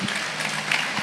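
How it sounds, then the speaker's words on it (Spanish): Church congregation applauding, a steady wash of many hands clapping together, dense and sustained for a brief moment with no break. "Démosle un fuerte aplauso al Señor."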